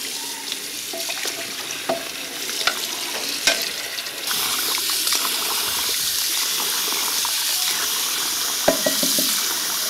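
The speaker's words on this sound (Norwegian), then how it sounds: "Jeg tar ut vannet fra disse her." Water splashes and trickles steadily as it is tipped out of containers, with small clinks and knocks around it in an indoor revue sketch.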